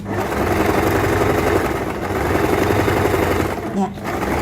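A sewing machine runs steadily as it stitches fabric along a tapered seam for a pleat-hidden pocket, a continuous close mechanical whir lasting throughout with a brief dip near the end.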